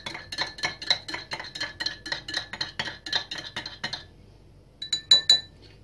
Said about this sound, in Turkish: Yine birazcık daha karıştırırsak şekeri iyice yedirmede yardımcı olur belki de.